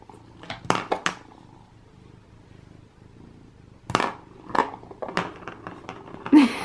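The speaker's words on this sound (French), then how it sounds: "Bon il ronronne à fond." A cat purrs with a soft, low, continuous rumble, close by, broken by several sharp clattering knocks and brief rustles.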